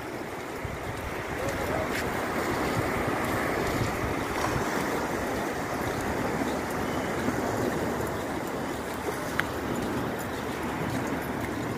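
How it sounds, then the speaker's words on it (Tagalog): Sea waves washing along the coast at Atimonan, Quezon, as a steady, continuous surf roar mixed with wind rushing across the microphone, loud and unbroken for the whole stretch. "Ito, dagat na."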